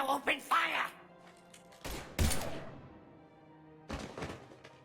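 Gunfire erupts in a Mass Effect 3 firefight: a few sharp broadband cracks and thuds, with one loud burst near the middle and another later, mixed with voices talking.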